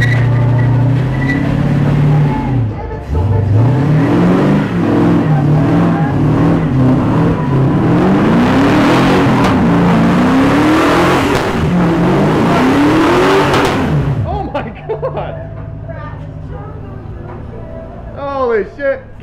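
A Toyota Corolla engine revs hard in a driveway, loud and close, with repeated rising pulls that climb and drop for about fourteen seconds before settling to a quieter idle, while people talk and shout over it.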